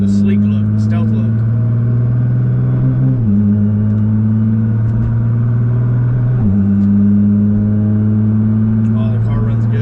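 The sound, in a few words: automatic car engine running on base map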